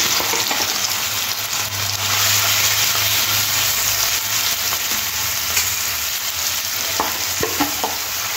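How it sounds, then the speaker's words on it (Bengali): Prawns coated in salt and turmeric fry in a little oil in a kadai, a loud dense sizzle running steadily throughout with a few faint stirring taps toward the end. "प्रथमे कड़ाते एकटु अल्प करे तेल दिए आर नुन आर हलुद माखानो चिंगड़ी माछटा एकटु भेजे नेब।"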